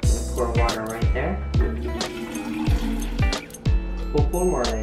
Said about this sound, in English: Pour water right there.